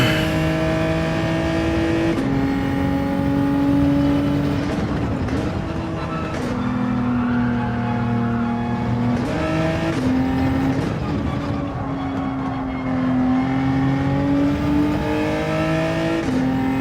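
Race car engine droning steadily through slow laps in Gran Turismo 7 on a PS5 Pro, loud and continuous, its pitch rising and dipping with shifts and braking, with no talk over it.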